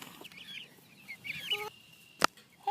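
Chickens clucking and chattering nearby in short, irregular bursts, with a brief sharp knock or clatter near the end and no talking.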